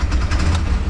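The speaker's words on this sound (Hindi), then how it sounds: "इसको, गाड़ी चालू कर दो," Bajaj Maxima three-wheeler auto rickshaw engine running right after starting, a loud, close, low rumbling idle with a steady throbbing pulse.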